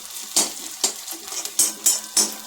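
Chopped onion frying in a pan for pasta, stirred at intervals so a soft sizzle rises in short bursts about every half second, close and moderately loud with no talking.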